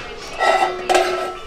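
Cookware pots and pans clinking in a shop in Japan, a pair of bright metallic knocks with ringing tails, close and moderately loud, with a voice speaking nearby.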